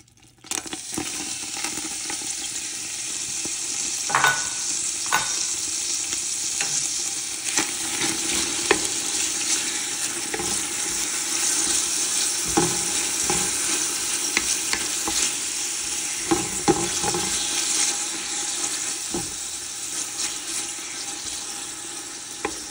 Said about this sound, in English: we're going to add the bacon and cook that down until it's browned